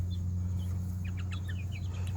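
A hen named Blanche clucks in an urban backyard, several short soft chirpy clucks in quick succession over a steady low hum, fairly near and without talk.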